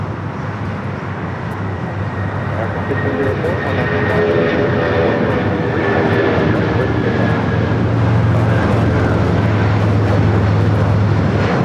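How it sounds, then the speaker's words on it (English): A 25-year-old Boeing 757 jet taxiing at LAX gives a steady, loud engine roar with a low rumble and a faint high whine, continuous throughout, with talk faintly underneath. "Going back to Newark on a 25-year-old Boeing 757."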